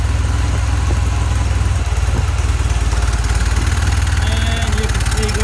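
Steady low idle of a vintage British motorcycle engine running at about 1500 RPM, loud and close, a continuous even throb with a faint higher whine near the end.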